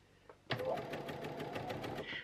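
A sewing machine stitches piping around a corner, starting abruptly with a steady, rapid mechanical chatter that runs close and even for about a second and a half before easing off.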